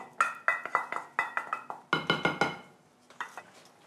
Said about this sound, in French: on va mélanger ça à la préparation